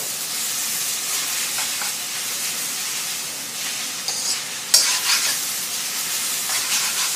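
Rice noodles with egg being stir-fried in a wok, a steady loud sizzle and hiss throughout with brief scraping clatters near the end and no talking.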